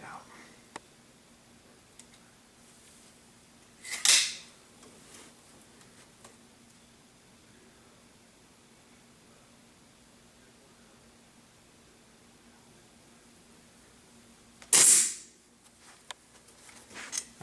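A Crosman Quest 1000 air rifle fires pellets at a target downrange, outdoors by a wooden archery backstop. Two sharp, loud shots come about ten seconds apart, with near silence between them.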